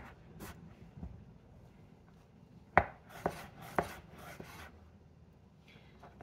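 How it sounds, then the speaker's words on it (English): Knife slicing vegetables into small thin pieces on a cutting board for a salad, a few soft scattered cuts then a short run of sharper, distinct chops close by, with no talking. "I'm just gonna slice them up kind of like I did the mushrooms, into small thin pieces"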